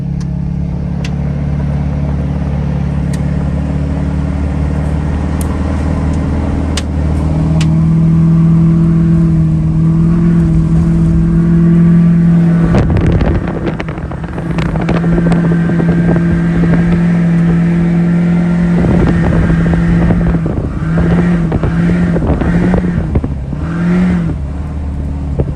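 A loaded truck climbs a steep, snowy hill in four-wheel drive, its engine a loud, close, straining roar that rises and falls with revving and wind buffeting the microphone, with no speech.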